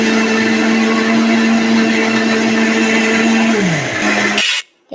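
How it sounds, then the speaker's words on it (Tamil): An electric mixer grinder runs at full speed on curry leaves, chilli, onion, garlic and grated coconut, a loud, steady whine with a strong hum that drops in pitch as the motor is switched off and stops abruptly. "அப்போ அதால் வந்து நான் மிக்சியில் அடிச்சிருக்கேன்."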